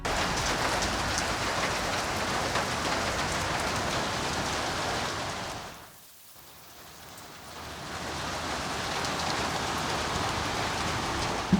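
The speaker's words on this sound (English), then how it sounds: "But oh my gosh, look at the rain." Steady rain pours outside, a dense, even hiss of drops on surfaces that fades briefly midway before returning at full strength.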